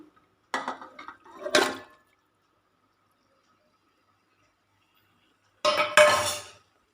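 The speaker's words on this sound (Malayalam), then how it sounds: "ഇതിലേക്ക് നമ്മൾ മസാലയൊക്കെ പുരട്ടി വെച്ച ഈ ചിക്കൻ ചേർത്ത് കൊടുക്കാം." Masala-coated chicken is dropped into a pressure cooker on the stove, giving two short bursts of wet, clattering plops and metal knocks. The bursts are separated by a long near-silent gap.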